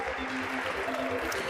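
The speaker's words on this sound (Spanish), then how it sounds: "Un aplauso gigante, por favor, para nuestra amiga querida." A Nerd Nite audience breaks into dense, continuous applause with a low rhythmic thumping underneath and faint voices mixed in.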